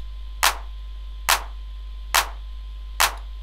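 Synthetic hand claps from an FL Studio drum loop strike four times at an even, steady pace, one on each of the second and fourth beats, each a sharp, bright snap over a constant low hum.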